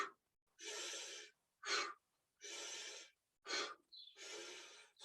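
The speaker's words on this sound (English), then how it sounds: "Breathe in and out." Heavy rhythmic breathing during an exercise class, alternating long breathy exhalations with sharp quick inhalations, about six breaths in five seconds, close and loud with no talking.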